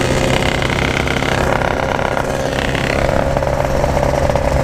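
Yamaha RX King motorcycle engine running loud and close, a rough continuous two-stroke rattle holding steady at idle with a slight rise in pitch near the end; no voices.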